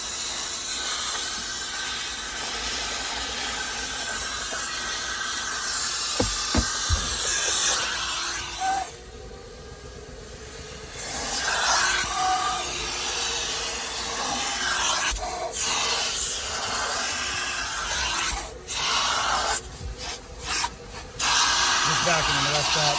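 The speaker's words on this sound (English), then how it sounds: "Vacuum the rest out." Extractor vacuum drawing liquid out of a heavily soiled car seat during a detailing job, a steady loud hissing, rasping suction that runs almost continuously, dipping briefly at times, with occasional voices talking over it.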